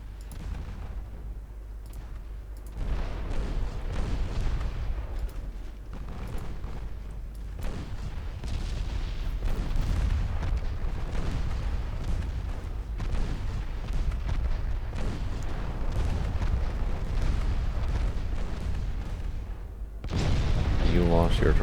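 Warship secondary guns in the naval game Ultimate Admiral Dreadnoughts thud and boom as a continuous, muffled rumble of distant firing, with a voice talking over it throughout.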